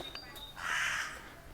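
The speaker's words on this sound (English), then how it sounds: "Angry crows." A single harsh caw from an angry crow in the woods rings out in the middle, moderately distant, over faint outdoor background noise.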